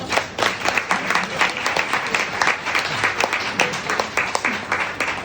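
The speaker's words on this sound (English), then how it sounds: "I'd like to give her a round of applause before we start the questions" Audience applauding an author at a book launch in a bookstore, a lively crowd of distinct claps with a bouncy, uneven rhythm, close and sustained for several seconds.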